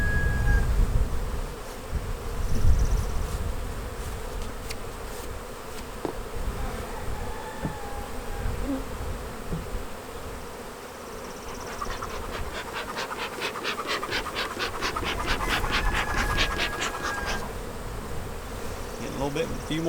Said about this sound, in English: as them bees come out of that super, you're going to see a lot more crowding on the front of that hive